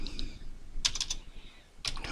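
Several quick keystrokes clatter on a computer keyboard, close by, in two short bursts separated by a pause.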